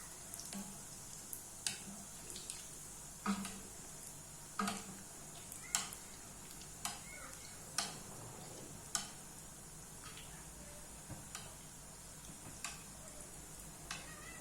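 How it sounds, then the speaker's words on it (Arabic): Seafood fritters frying in hot oil, a soft continuous sizzle broken by a dozen or so sharp spoon taps and clinks at uneven intervals as oil is spooned over them, close but quiet, with no talking. "نجيبوا معلقه نبقاو نديروا الزيت فوق منهم هكا كتعاونهم باش يتنفخوا"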